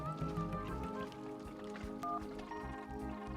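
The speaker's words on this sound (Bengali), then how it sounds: "এখন বৃষ্টির বেগটা একটু কম" Heavy cartoon rain hisses steadily beneath a bed of tonal music, a constant wash with no voices.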